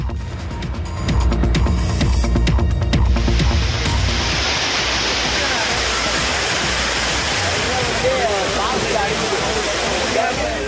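Courtallam waterfalls in Tenkasi, India, crowded with weekend tourists bathing, come in as a loud, dense, continuous roar of falling water after a news presenter's speech at the start.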